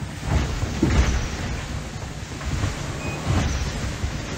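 Strong wind roars steadily around a racing sailboat at sea, with waves slapping the hull in irregular surges and gusty rumbling close to the microphone.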